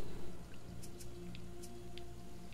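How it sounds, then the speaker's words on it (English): Rain falling in the survival game Sheltered, a faint steady hiss scattered with soft droplet ticks and drips, with no voices. "It's raining!"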